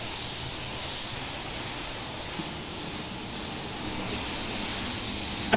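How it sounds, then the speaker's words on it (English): A spray gun laying gold paint on a trailer gives a steady, loud hiss that runs unbroken throughout, close up and with no voices. "we're just gonna spray some gold, fix it"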